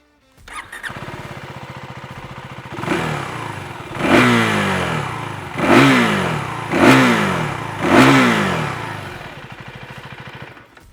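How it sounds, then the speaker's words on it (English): A Husqvarna Svartpilen 401 single-cylinder motorcycle engine starts and idles, then revs loudly in five sharp blips, each rising and falling back to idle, close and alone. "let's have a quick listen and refresh your mind on what this engine sounds like"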